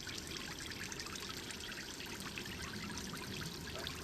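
Water trickles and splashes softly but continuously in a garden, a close, even burbling with no talk.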